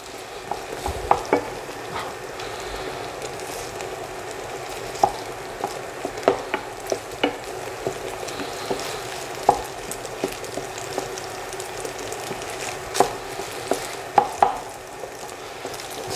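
Sausage and ricotta sizzle steadily in a pan for pasta alla norcina, with a spoon or spatula scraping and tapping against the pan at irregular intervals, close and clear with no voices.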